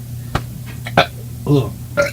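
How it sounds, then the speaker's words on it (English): A man burps several times in quick succession during a theme-park talk show, short throaty eructations spaced unevenly, close to the microphone with a low steady hum beneath. "After I burp."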